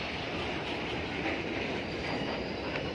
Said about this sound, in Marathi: आपली ट्रेन आलेली आहे